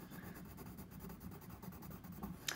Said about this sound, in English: So we need to color 3 of these envelopes in.